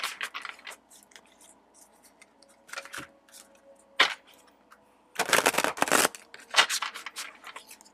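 A deck of essential oil cards is shuffled quietly in scattered soft flutters and taps, ending in a dense burst of riffling and a few final flicks.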